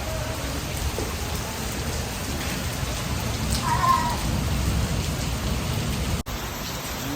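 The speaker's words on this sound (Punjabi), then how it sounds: "ਜੋ ਹਨੇਰੀ ਬਹੁਤ ਆਈ ਜਾਂਦੀ ਹਨੇਰੀ ਇੰਨੀ ਆਈ ਹਵਾ ਵੀ" A strong windstorm roars steadily and loudly throughout, a dense gusting rush of air with no voices heard, briefly dropping out near the end.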